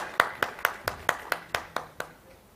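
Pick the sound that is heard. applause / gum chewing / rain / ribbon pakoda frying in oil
applause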